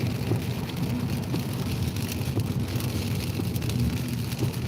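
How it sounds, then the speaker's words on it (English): Heavy rain pours steadily in a dense, unbroken hiss with scattered sharper drops hitting surfaces close by, loud and constant with no voices. "It's straight raining."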